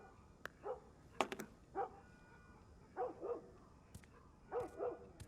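Dog barking in The Last of Us Remastered, a series of separate short barks and yips spread across the moment, moderately close, with brief gaps between each burst.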